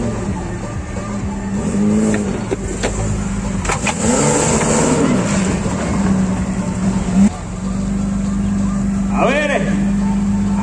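An off-road 4x4 in a retro 4x4 competition in Venezuela revs hard and pulls out of a pit section, its engine loud and rising, while an announcer talks excitedly over it and a crowd murmurs.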